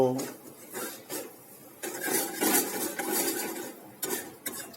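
Flour and jaggery are stirred in a pan with the heat off, producing continuous gritty scraping and rubbing of a spoon against metal, close and moderately loud, with a few clinks.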